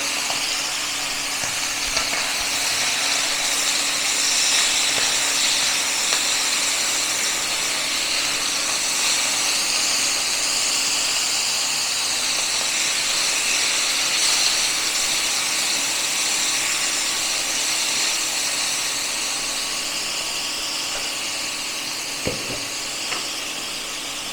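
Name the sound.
hot oil spattering in a pan because of water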